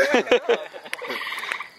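Frogs croaking mating calls at night, a short burst of loud, rapid, pulsing croaks close by, followed by a fainter trilling chorus.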